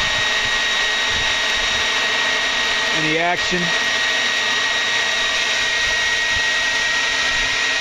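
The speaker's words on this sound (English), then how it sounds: "I'll turn on the dryer here" A hair dryer blows air into the coals of a homemade forge with a constant, loud whooshing hum that runs throughout, and someone briefly speaks over it.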